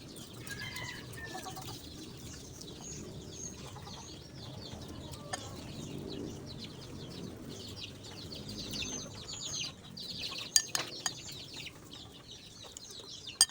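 Chickens scratch and cluck outside a provincial house, soft scattered clucks and chirps over a quiet outdoor background, with a few wing flaps and a couple of sharper knocks near the end.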